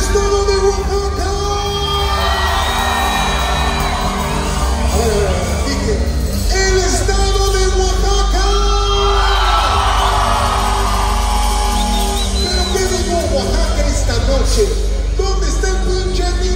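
A loud festival crowd at a town fiesta in Tlaxiaco, Oaxaca, shouting, whooping and cheering without a break, with music and voices blending into a steady roar that carries from start to finish.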